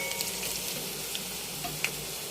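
Dried red chillies and curry leaves fry in hot oil in a pan, giving a steady soft sizzle throughout with a few faint clicks and pops, no voices.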